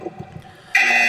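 A loud, sustained electronic buzzer blares suddenly after a brief stretch of quiet murmuring, holding steady to the end.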